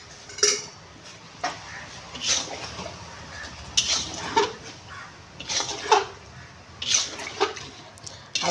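Water poured into a pot of homemade chicken curry in a home kitchen, a few splashing pours broken up by clinks of utensils against the pot, close and moderately loud.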